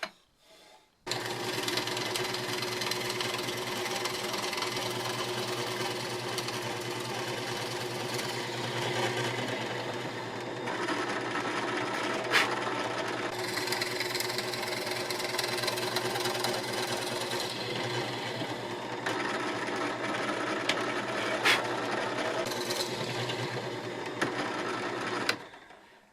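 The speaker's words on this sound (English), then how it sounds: "I was not going to drill all the way through." A spade bit with a quarter-inch shank drills into wood in a continuous, loud, near whine that runs steadily for about 25 seconds with slight shifts in pitch, plus a few sharp ticks and pauses in load.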